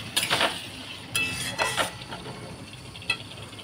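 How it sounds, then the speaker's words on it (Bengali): Ground shrimp and masala are stir-fried in a pan, with several sharp scrapes and clinks of a utensil against the metal in irregular bursts over a low background sizzle. "এবার কষিয়ে নেব"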